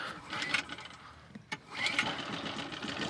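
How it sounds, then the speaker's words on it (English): A freshly serviced sailboat engine starts up: a sharp click near the middle, then the motor catches and runs steadily at close range over a background of noise. "I think I'll start the engine and you'll get the lines. This should just fire straight up because I just had it running"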